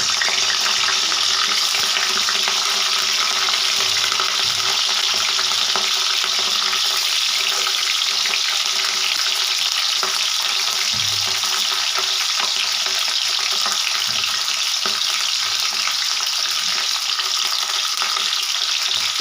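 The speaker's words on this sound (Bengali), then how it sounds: "তেল খুব সুন্দর করে গরম হয়ে গেছে, ফুলকপি সুন্দর করে ভেজে নেব।" Cauliflower florets frying in hot white oil in a pan, giving a continuous loud sizzle and crackle that holds steady throughout, with faint occasional stirring knocks and no talking.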